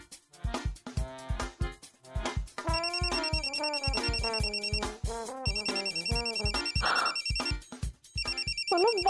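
A phone ringtone plays repeatedly, a melodic electronic tune ringing loud and close, with a brief noisy rustle partway through.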